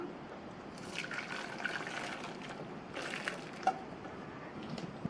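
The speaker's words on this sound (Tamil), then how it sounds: "ஒரு பாத்திரத்து மேலே இந்த வடிகட்டியை வச்சு வடிகட்டிக்கலாம்" Water from boiled noodles pours and trickles steadily through a strainer set over a vessel, with faint splashes and drips, a soft continuous liquid flow close by.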